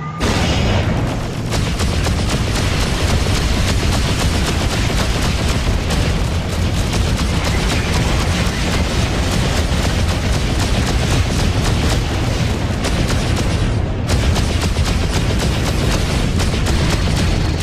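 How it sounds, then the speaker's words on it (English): Incoming missile explosions in the space combat game Freelancer, a dense, loud roar of continuous rumbling blasts and crackle filling the whole stretch with no letup. "Incoming missile."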